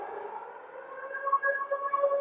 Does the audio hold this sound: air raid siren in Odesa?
yes